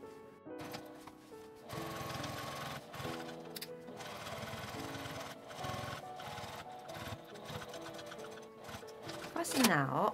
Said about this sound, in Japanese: 縫い代は表側に倒して端ミシンをかけます。